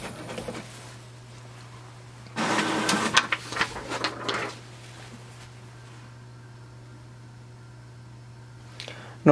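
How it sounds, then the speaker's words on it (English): An HP Deskjet 2676 all-in-one inkjet printer runs at close range, with a steady low hum, a loud burst of mechanical feeding and carriage noise lasting about two seconds, then quieter whirring and a final clunk. "Just wait for the printer to start."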